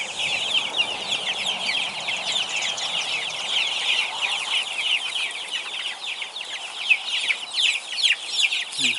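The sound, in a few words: chickens clucking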